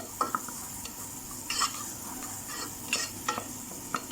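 Garlic and onion sauté in a pan under a steady, quiet sizzle, with a few sharp spoon scrapes and clinks from stirring spaced through the clip.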